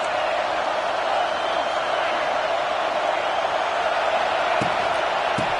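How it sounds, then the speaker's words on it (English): A college football stadium crowd roars in a steady, broad wash of cheering and noise, with a couple of sharp thuds near the end. "This crowd bringing the energy and noise early."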